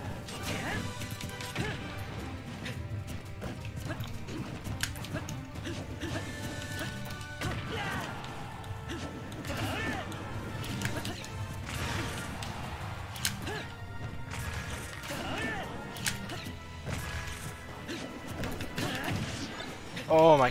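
Repeated down smash attacks at the ledge in a Smash Bros match, heard as dense, constant game action with impact hits and music running throughout, fairly loud, with a voice talking over it.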